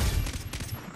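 Gunfire from guns in the co-op shooter game Far Cry 3, a second of dense, rapid low thumping shots, fairly loud and close.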